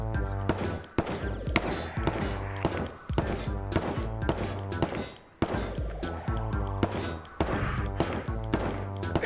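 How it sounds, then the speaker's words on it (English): Repeated gunshots in a battle royale video game, sharp bursts recurring irregularly throughout over game music, fairly loud and close. "he keeps shooting"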